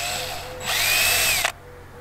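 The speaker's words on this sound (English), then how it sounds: "start drilling our pilot holes" A power drill whines briefly at close range while drilling pilot holes for a skylight in a school bus roof, its pitch rising then sliding down before cutting off abruptly as the bit breaks, with a faint background hum.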